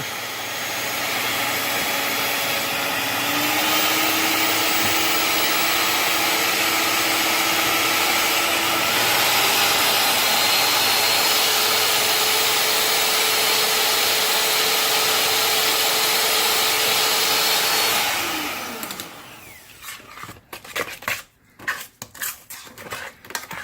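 An electric mixer beats peanut butter cookie dough for peanut butter blossom Christmas cookies, giving a loud, steady motor whir for about eighteen seconds before it shuts off into scattered clatter and bumps.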